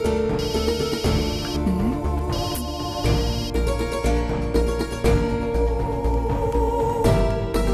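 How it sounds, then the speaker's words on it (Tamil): A mobile phone plays a melodic ringtone, bright repeating electronic tones in a looping pattern with a layered musical backing, sounding continuously and fairly loud in a home, with no talk. "போன் அடிக்குது பாரு"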